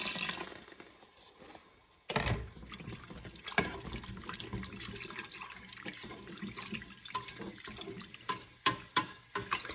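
Warm beef broth pours into a pot with a continuous liquid splashing and gurgling, fairly faint, starting with a sudden rush and carrying on with irregular sloshes and clinks.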